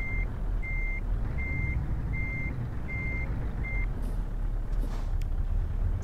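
A heavy truck in Euro Truck Simulator 2 rumbles low and steady while six evenly spaced reversing beeps sound over the engine, followed by a few short airy hisses.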